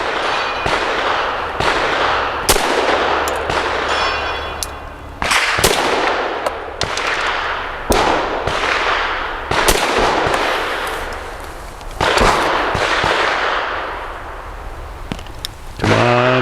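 An Arex Zero 1 T pistol fires a long series of loud, sharp gunshots at close range, some in quick pairs and others spaced apart, each echoing briefly, with no voices.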